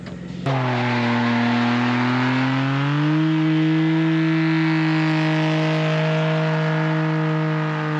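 Car engines rev loudly at a car meet, a sustained roar that climbs in pitch after a sudden start and then holds high, close and continuous with no talk over it.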